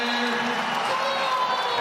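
A college basketball crowd at the Ryan Center in Kingston rises in a steady, broad roar of cheering, filling the whole moment with a commentator's voice faintly over it.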